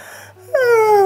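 A storyteller voices a big yawn for a little teddy bear at the end of a Christmas party, a loud, drawn-out falling moan that starts after a short breathy pause.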